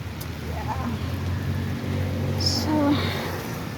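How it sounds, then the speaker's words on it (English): Rain falling in New York City, a soft steady patter and hiss over low street hum, with faint distant traffic and brief higher chirps in the background. "It's raining in New York City."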